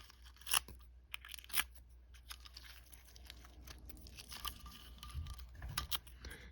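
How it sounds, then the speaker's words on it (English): Close, crisp bursts of paper being torn and crinkled by hand, irregular and spaced apart, with a couple of sharper rips standing out. "I can actually just tear off the little pieces of overhang with my fingers"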